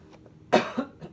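A single muffled cough, close and brief, from a person who covers the microphone while coughing, followed by a faint throat sound.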